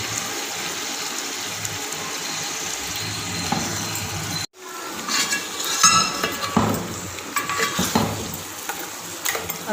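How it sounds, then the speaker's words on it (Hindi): Beef qorma meat with garlic and ginger sizzles in a pot while being stirred, a steady fry broken by a brief gap, then scraping and clattering of the utensil against the pan in uneven bursts. "अब इस गोश्त को हम अच्छी तरीके से मिक्स कर लेंगे लहसुन अदरक में।"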